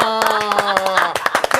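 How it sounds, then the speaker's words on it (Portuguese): Studio podcast hosts clap their hands at a Band FM anniversary celebration: a brisk run of sharp claps close to the mic, layered over a sustained sung or held voice tone. "A gente tá aplaudindo"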